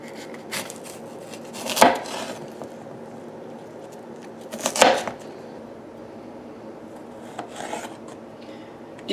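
Tomatoes being sliced on a cutting board, with two prominent bursts of rasping knife strokes and board thuds separated by quieter handling sounds, close up and without talking.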